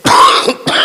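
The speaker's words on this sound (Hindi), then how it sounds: "खांसी है।" A man coughs sharply twice in quick succession, close and loud, the second cough following a short pause.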